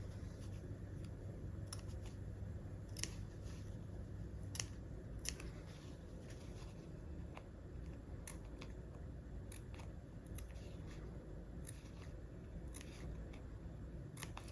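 Scissors cut fabric close to the collar seam of a sewing project, making a series of sharp, close snips at an irregular rhythm over a steady low background hum.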